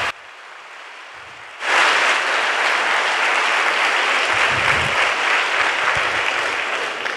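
Audience applause for a band at the opening of a communication conference in Cologne, bursting in loud after a quieter opening and holding as a steady, dense roar of many hands to the end.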